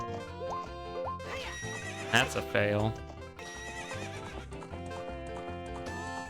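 Epona the horse in The Legend of Zelda: Ocarina of Time whinnies loudly in a game, over continuous background music and steady hoofbeats, while someone talks briefly.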